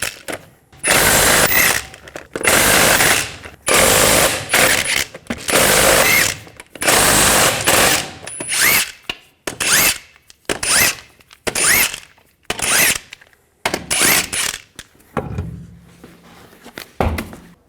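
An impact power tool spins off the six 21mm lug nuts from a 2004-2009 Ford F-150 wheel, loud repeated bursts of whirring rattle separated by short pauses, ending with lighter clicks and a low hum.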